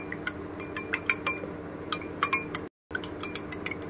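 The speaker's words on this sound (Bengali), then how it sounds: "এই যে এখানে আমি ডিমগুলোকে ফেটিয়ে দিচ্ছি ভালো করে।" Eggs are beaten in a bowl with light metallic clinks of a utensil against the side. The taps come in quick irregular bursts with a brief silent gap near the end, and no talk.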